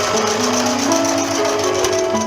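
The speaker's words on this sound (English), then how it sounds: "Take a straight stitch over the elastic." A sewing machine runs a straight stitch over elastic on a cloth face mask, a loud, close, steady mechanical whir with a rapid needle rhythm that continues without pause and without talk.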